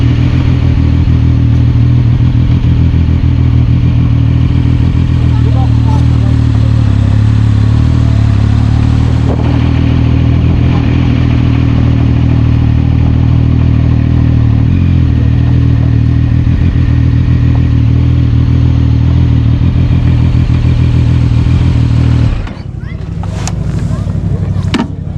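A Zontes ZT 703 F motorcycle rides along with a steady low engine drone and wind rumble, close and continuous, before the engine note drops near the end.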